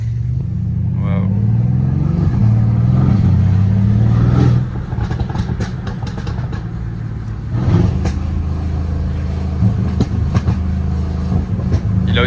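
A sports car with a redone exhaust drives by with a loud, low engine drone that shifts pitch as it moves, under people talking.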